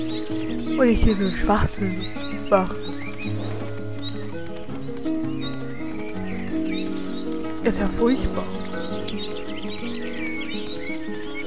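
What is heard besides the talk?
horse neighing and hooves in video game Mein Pferd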